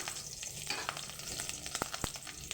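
Green chilies hit very hot oil in a pan and sizzle steadily, with a continuous bright frying hiss and small pops and crackles close by while cooking a hilsa and eggplant dish.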